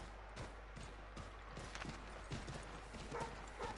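Horse hooves gallop in Assassin's Creed III with a steady, rhythmic clip-clop that holds close and fairly loud over a constant game ambience.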